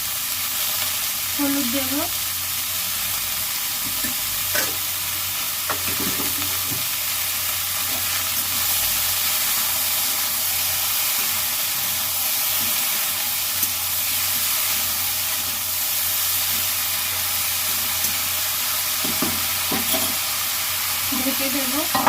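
Potatoes frying in oil in a wok on a home stove, a steady close sizzle and hiss running throughout, with occasional spatula clinks and a brief spoken remark.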